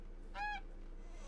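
A single goose honk from the game Medieval Dynasty, a short rising-and-falling call heard once over a steady low background hum.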